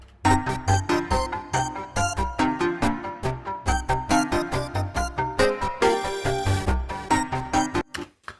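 Bright, punchy synthesizer playing a rhythmic pattern with steady pulsing notes and deep bass, loud and continuous, ending abruptly.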